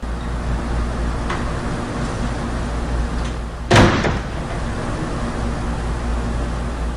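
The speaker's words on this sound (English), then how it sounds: "a moment later, the door next to it slams closed" A door slams shut once, a sharp close thud standing out from a steady background hiss of room noise, with no talking.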